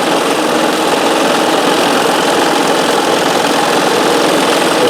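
A Janome 672 sewing machine stitching steadily at about 1,300 stitches a minute, a loud, continuous mechanical whirr and rapid needle clatter, close by and unbroken, with no voices.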